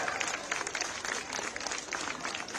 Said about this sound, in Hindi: सब जोर से ताली बजा के अभिनंदन करो